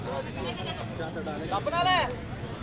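A Sindhi khasi goat at a Lahore livestock mandi gives a short wavering bleat near the end, beneath someone talking and the steady murmur of the crowded market.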